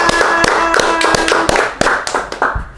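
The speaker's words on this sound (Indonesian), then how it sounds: "Tepuk tangan." A few sharp, close hand claps in an uneven rhythm, loud and dry, from a small channel host's setting, with no talk over them.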